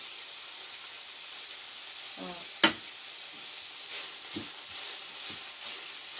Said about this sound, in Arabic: صافي نخلي هادشي يتشحر مزيان